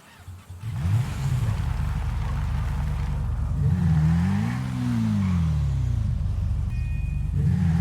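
A car engine roars at full speed in GTA V, loud and continuous with pitch rising and falling as it revs through gears, no talking over it.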